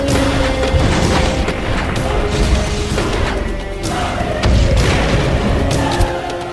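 A saint's statue is smashed in the MU Online Blood Castle game trailer, with heavy crashing impacts and deep booms repeating over a dense, loud cinematic rumble.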